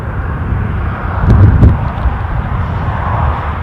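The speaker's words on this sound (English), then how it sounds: "this Embraer pushes back" An Embraer turboprop airliner pushes back at Newcastle International airport, its low engine rumble steady and moderately loud, swelling briefly near the middle.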